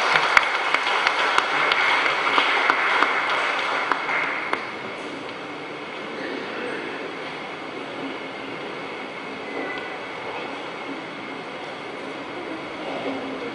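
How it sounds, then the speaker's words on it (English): Applause for newly elected officers at a university gathering: a broad, even wash of clapping that is louder for the first few seconds, then settles into a quieter, distant steady patter. "A round of applause for our newly elected officers."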